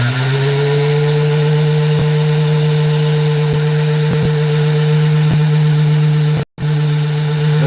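A gem-cutting saw slicing a piece off a gemstone, a loud, steady high-pitched mechanical whine with faint periodic clicks, briefly cutting out near the end before resuming, close and alone.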